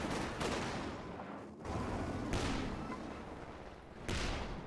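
Artillery barrages in the strategy game Company of Heroes 2, a dense rumbling roar of repeated shell blasts with heavy impacts recurring every couple of seconds, fairly quiet in the mix.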